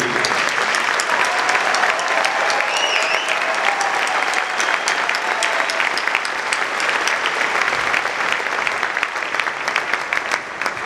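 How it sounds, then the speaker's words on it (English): Sustained, loud applause fills a film festival hall as the audience honors Martin Scorsese, dense even clapping with a few faint whistles and cheers mixed in throughout. "Cheer for Marty Scorsese."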